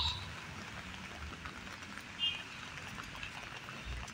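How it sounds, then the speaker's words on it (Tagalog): Heavy rain falls steadily during a walk through the streets of Jordan, Hong Kong, as a continuous moderate hiss with no voices. "Pero ngayon, ayan, malakas na ng ulan."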